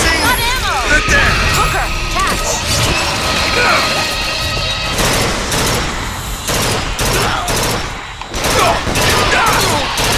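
Gunfire erupts in the video game Bioshock Infinite, with rapid bursts and crashing impacts that grow denser and louder in the second half, mixed with game voices and effects.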